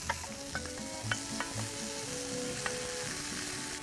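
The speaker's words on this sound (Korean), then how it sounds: "지금 더덕은 어느 정도 한 중불 정도에서도 괜찮고요. 근데 삼겹살 같은 경우는 약불에서부터 서서히 올리셔서 구워주시는 게 가장 좋고요." Deodeok root and pork belly sizzle together in an oiled pan over moderate heat, a steady soft frying hiss with occasional light pops and stirring clicks, no voices.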